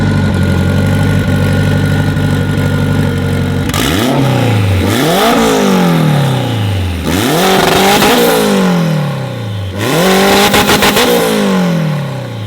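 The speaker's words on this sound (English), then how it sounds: "Can you go ahead and rev it up?" A 600HP Honda-powered Smart Car called KaterTot idles with a rough, lopey rumble, then revs hard three times, each blip climbing sharply before falling back, loud and close.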